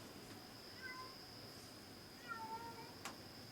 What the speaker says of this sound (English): And I got a cat that's crying out there.